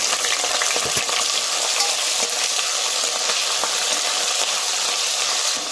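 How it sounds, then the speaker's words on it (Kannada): Onions frying in hot oil with whole spices such as cinnamon, cloves, cardamom, bay leaf and fennel, a steady close sizzle with faint scraping stirs and no voices. "ಈರುಳ್ಳಿ ಸ್ವಲ್ಪ ಕೆಂಪಗಾಗಬೇಕು ಅಂತ ಫ್ರೈ ಮಾಡ್ಕೊಳ್ಳೋಣ."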